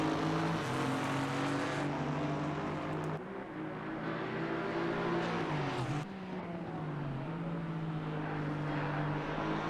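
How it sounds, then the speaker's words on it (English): GT4 race cars on a wet Brands Hatch circuit, an Aston Martin passing a Ginetta under the bridge before the final turn: steady loud engine drone with shifting pitch as the cars pass, continuous with no talk. "the Aston Martin makes its way around the Ginetta under the bridge just before the final turn"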